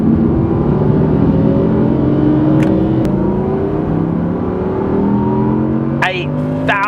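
A 2023 Audi R8 V10 engine revs hard from inside the cabin, its harmonics rising steadily in a loud, continuous wail as the car pulls, with brief clicks and a short whine near the end.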